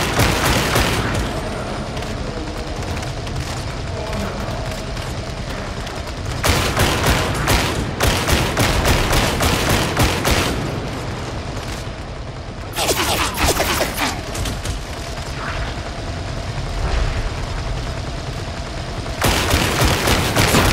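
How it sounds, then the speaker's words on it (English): Enemy gunfire in Warhammer 40,000: Darktide: dense, continuous volleys of rapid shots and booms, loud and sustained, with heavier bursts flaring in several places. "Enemy ranged attacks cause suppression, making it harder to land accurate shots"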